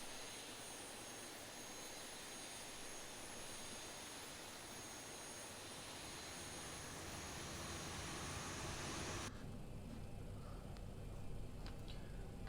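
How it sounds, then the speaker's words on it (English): A jet airliner engine spools up in an X-Plane 11 flight simulator, producing a steady, faint whining roar that continues throughout and shifts in tone partway through, with no talk. "once engine 1 stabilized, so we can kick for number 2."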